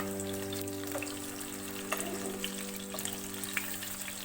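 Chicken and potato kebabs fry on low heat in a pan, a soft, steady sizzle with occasional tiny pops, quiet and close, over a faint constant background hum.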